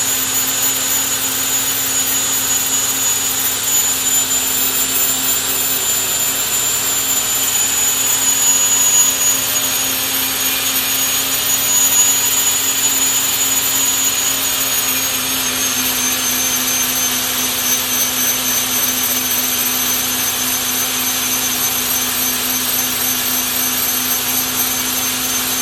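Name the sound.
grinder grinding the inside diameter of bushings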